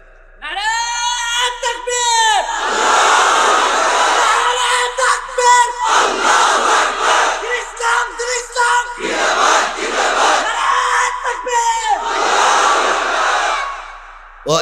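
A large crowd at an Islamic religious gathering (mahfil) at a madrasa chants slogans together, loud massed voices in rhythmic waves that swell and break with short pauses between calls.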